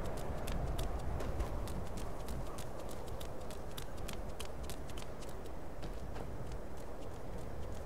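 Horse hooves clip-clop in Skyrim, a steady, even trot that carries on for the whole stretch at moderate loudness over a low ambient bed, with no voices.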